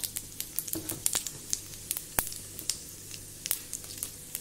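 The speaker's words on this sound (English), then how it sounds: "I normally use olive oil that is for health benefits but you can also use any oil any vegetable oil or you can also use use uh, ghee so I'm adding in my cumin seeds" Cumin seeds sizzle in hot olive oil or ghee for a Punjabi rajma masala, with a steady crackle under sharp pops and spits scattered throughout, close and fairly quiet, no voices.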